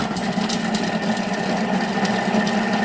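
A Thermomix runs at speed 5, chopping onion pieces with a continuous, even motor whir and buzzing vibration that holds steady and close with no pauses.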